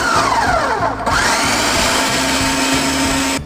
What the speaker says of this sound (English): I'm going to throw it in the blender, see how it comes out after all those apples get ground up